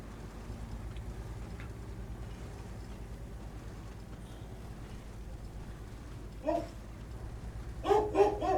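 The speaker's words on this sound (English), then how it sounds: "dog going crazy" A dog barks a few times in the background of a World of Tanks match, one brief bark followed later by a short cluster of sharper barks over a low steady rumble.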